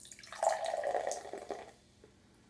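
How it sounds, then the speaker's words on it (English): An orangish citrus energy drink is poured from a can into a small taster glass, giving a soft, steady liquid splash for about a second and a half that then trails off into faint drips. "We're going to pour it into the taster glass here."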